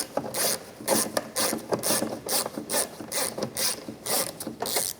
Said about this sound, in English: use a Phillips head screwdriver, and there are 2 Phillips head screws that hold this in